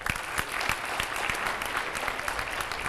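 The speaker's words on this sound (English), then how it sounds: "So we give them a round of applause." An audience claps through a school track and field awards assembly, a steady wash of applause from a moderate-sized crowd, fairly soft and continuous for a few seconds.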